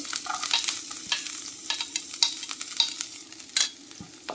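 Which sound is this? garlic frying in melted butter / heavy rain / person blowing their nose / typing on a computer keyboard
garlic frying in melted butter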